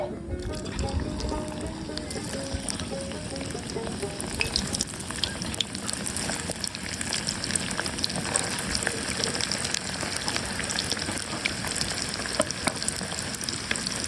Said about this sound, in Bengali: তেল গরম হয়ে গেছে। এখন আমি এক এক করে দিয়ে দেব করলাগুলো।